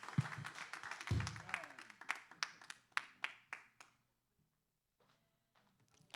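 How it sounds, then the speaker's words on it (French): A small group claps for the mothers at a church gathering, a burst of brisk hand claps that thins into scattered slaps and fades to near silence, followed by a few faint taps. "on salue mesdames yo par un applaudissement"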